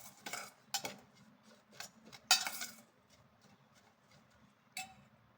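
A spoon clinks and scrapes against a bowl while pepper powder and salt are mixed in for a bread omelette, in short, quiet, irregular taps with one sharper clatter, in an otherwise still kitchen.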